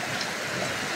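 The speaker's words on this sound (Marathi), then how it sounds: "बारिश आ रहा है बहुत, बारिश बहुत आ रहा है." Heavy afternoon rain pours down in Kalyan as a dense, steady, unbroken hiss of water, loud and even for the whole moment with no other sounds standing out.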